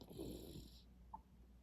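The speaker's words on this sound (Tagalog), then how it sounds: "At ang lakas ng hilik niya" A person napping while seated snores loudly, a low rasping breath that fades partway through, followed by a faint small click in an otherwise quiet room.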